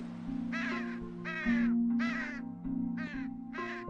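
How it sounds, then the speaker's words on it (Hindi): Crows cawing near a dead markhor in the Pakistani mountains, five harsh, drawn-out caws in a steady sequence, fairly close over a low continuous hum. "कव्वे इसको पहले ही ठिकाने लगा देते हैं, लेकिन गिद्ध के आते ही वो इस शिकार से महरूम हो जाते हैं।"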